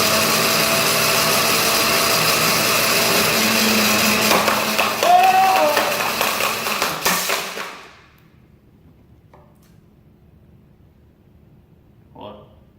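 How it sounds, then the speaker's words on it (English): A blender whirs loudly blending prickly pear for several seconds, straining and wavering before cutting off, followed by near silence with faint movement and a short voice. "I'm just going to put the rest of this boy in there in that blender"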